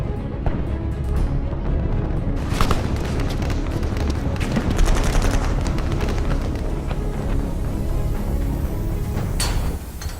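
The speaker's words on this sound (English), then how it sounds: "HQ, taking heavy fire, northeast corridor." Heavy gunfire and deep booming blasts fill a combat scene, a loud, dense and continuous barrage of cracks and rumbles with no pause.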